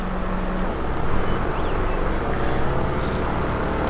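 A BMW X5 engine in the off-road driving game SpinTires drones continuously as a steady, rough mechanical hum with broadband noise, constant level throughout and no voices.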